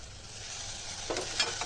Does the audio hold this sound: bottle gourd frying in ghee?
yes